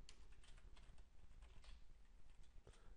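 Fingers tap out a command on a computer keyboard in a quick, irregular run of light clicks, close and fairly quiet, with no voices.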